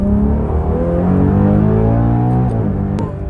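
Ferrari Purosangue V12 accelerating under throttle, a loud, rich, rising engine note with climbing harmonics, heard from inside the cabin, strong and continuous before easing slightly at the end.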